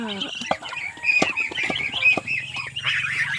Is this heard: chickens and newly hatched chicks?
yes